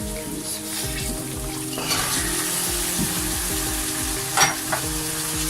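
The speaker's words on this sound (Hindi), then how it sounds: "अब हम इसके अंदर चिकन डालेंगे।" Chicken pieces frying in a pan for biryani, a steady close sizzle with stirring scrapes and occasional utensil knocks, plus a low hum underneath and no talking.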